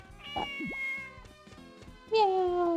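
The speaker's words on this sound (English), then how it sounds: "Meow, kitty cat." A cat meows several times in a Harvest Moon farming video game, clear drawn-out mews over soft game music, the last one louder and longer.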